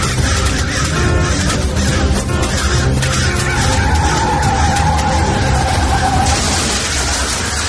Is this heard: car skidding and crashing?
yes